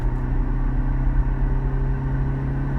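A 2020 Hyundai i10 cruising at 80-90 km/h gives a steady, even engine and road drone from inside the cabin, continuous with no voices.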